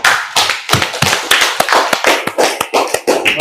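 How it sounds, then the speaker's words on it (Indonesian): A classroom of students claps for a classmate, a brisk, close round of applause with sharp individual hand claps that keeps steady until the end. "berikan aplaus untuk Ananda"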